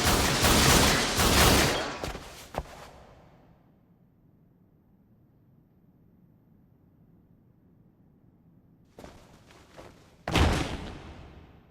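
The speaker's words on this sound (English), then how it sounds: "And Takeshi's body was instantly riddled with bullets." A burst of gunfire riddles a body in an anime story, with loud rapid shots at the start, a quiet low rumble through the middle, then more sharp bursts near the end.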